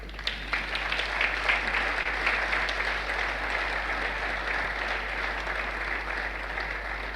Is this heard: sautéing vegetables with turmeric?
no